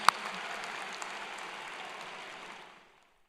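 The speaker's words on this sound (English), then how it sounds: "We can clap here." A high school graduation audience claps in a soft, steady wash of applause that sounds distant and muted. It holds evenly for a few seconds, then fades out to silence.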